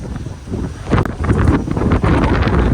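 Loud, steady monsoon storm wind on Girnar hill, Junagadh, roars and buffets the microphone in a stormy rush, with no voices, constant from start to finish.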